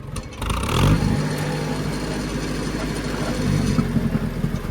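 Oliver Super 55 tractor engine running steadily after a carburetor rebuild, a loud, close, even low rumble that stays constant throughout without stalling.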